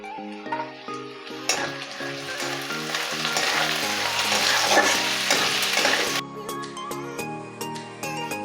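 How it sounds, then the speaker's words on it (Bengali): Onion and capsicum strips frying in a pan for a bhindi capsicum curry, a steady close sizzle with stirring, spatula scrapes and clinks, and a musical background throughout. "পেঁয়াজটা মোটামুটি ভাজা হয়ে গেছে এখন আমি ক্যাপসিকামটা দিয়ে দিয়েছি"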